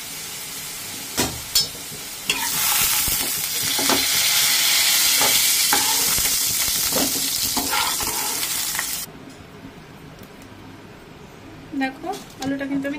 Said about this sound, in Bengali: আলুটা কিন্তু আমার খুব সুন্দর লাল লাল করে ভাজা হয়ে গেছে